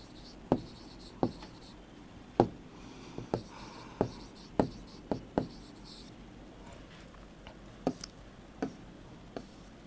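A pen or chalk writes by hand in a run of sharp, evenly spaced taps and short scratches, close and moderately loud against a faint background hiss, with no speech.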